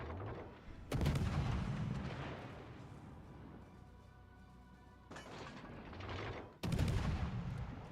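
Heavy naval gun salvos in World of Warships: Legends, two or three deep booming volleys a few seconds apart with rumbling decay and ongoing battle noise between them, loud and without voices.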